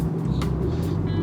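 A 2025 Aston Martin Vantage V8 engine drones steadily from inside the cabin while driving, a constant low rumble with no pauses and no talk.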